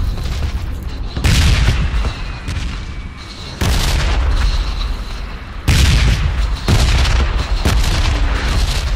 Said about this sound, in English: Explosions are loud as well.